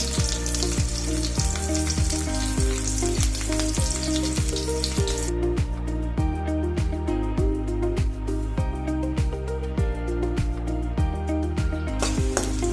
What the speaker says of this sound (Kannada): ಜೀರಿಗೆ ಸ್ವಲ್ಪ ಸೌಂಡ್ ಆದ ತಕ್ಷಣ ಬೆಳ್ಳುಳ್ಳಿ ಸೇರಿಸ್ಕೊತಾ ಇದ್ದೀನಿ